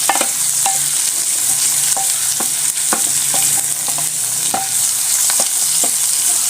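Tripe (matumbo) fries with onions in hot oil, hissing steadily while a spoon scrapes and stirs the pan in repeated clicks and taps, close up.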